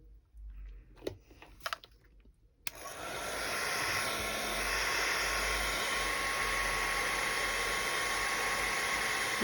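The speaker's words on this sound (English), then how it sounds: "I think we need to dry that a bit more." A hair dryer switches on after a few faint clicks and handling noises, then blows steadily and loudly over a stencilled art journal page with a broad, even rushing whoosh.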